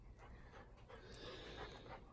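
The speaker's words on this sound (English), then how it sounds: "Goofy dog." A dog named Teddy panting quietly up close, steady rapid breaths with a faint whimpering edge, low in level and with no talk.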